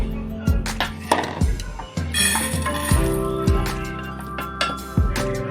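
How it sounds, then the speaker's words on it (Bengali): Roasted toor, urad and chana dal are poured into a container, making a run of sharp clinks and rattles with short ringing tails at an uneven rhythm, close and fairly loud. "আমার তুয়ার ডাল, বিউলির ডাল আর চানার ডাল, ছোলার ডাল এটা রোস্ট হয়ে গেছে। আমি ঢেলে দিচ্ছি এখানে।"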